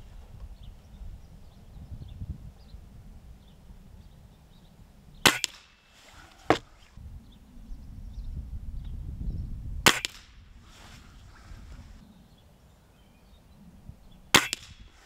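Cometa 400 Fenix S air rifle firing Gamo pellets on a range, with three sharp, isolated cracks spaced several seconds apart over low outdoor rumble.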